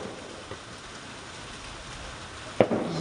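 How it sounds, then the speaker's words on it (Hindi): Rain falls steadily on a mountain village in Uttarakhand, a constant soft patter with one sharper knock or thud near the end and no voices. "और बारिश भी हो रही।"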